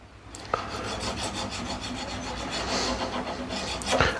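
Negative scraper edge being sharpened on its bevel, a quiet continuous rasping rub with steady strokes and a couple of brief clicks, alone without talk.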